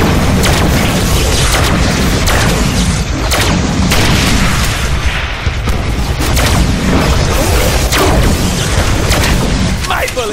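A suicide-bomb blast from the Deadpool video game booms loud and sustained, with heavy rumbling impacts and crashing debris filling the whole stretch.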